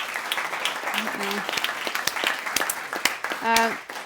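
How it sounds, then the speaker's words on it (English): Audience at an energy conference claps for a panel, scattered applause running under a speaking voice that continues over it. "A round of applause for our panel."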